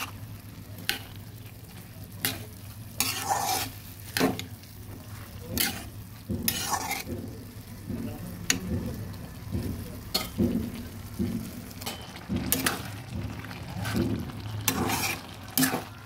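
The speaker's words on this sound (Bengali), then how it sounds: "বারবার নেড়ে দিতে হবে, কারণ বাদাম আর চারমগজগুলো লেগে যেতে পারে।" A spoon stirs banana stem curry with nuts and melon seeds in a pan, producing repeated scraping strokes over a soft continuous sizzle, close and moderately quiet.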